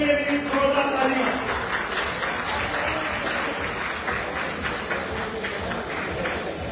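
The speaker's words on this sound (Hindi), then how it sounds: "इनके लिए भी जोरदार तालियां." Crowd at a mobile phone CPU repair competition in Lahore gives steady applause for participants, continuous clapping with a few voices over it early on.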